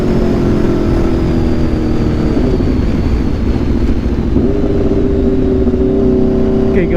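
An Aprilia RSV4 motorcycle fitted with an SC-Project CRT exhaust is ridden on the road, its engine droning loud and close with a steady high-revving roar and a shift in pitch partway through, under constant wind noise.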